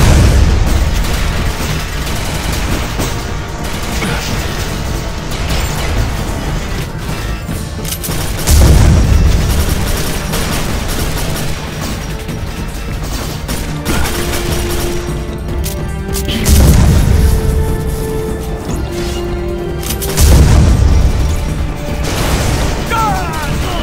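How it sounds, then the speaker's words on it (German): A rocket blast in Quake 4, deep booming explosions landing several times over a loud, continuous wash of game noise and gunfire, with no talking. "da fliegt schon eine Rakete"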